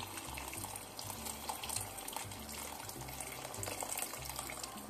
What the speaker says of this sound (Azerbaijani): üzərinə 2 stəkan bulqur üçün 4 stəkan qaynar su əlavə edirik